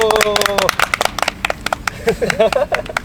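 A small group of golfers claps during a field round at Yongwon CC, a scattered burst of crisp handclaps under laughter and talking nearby.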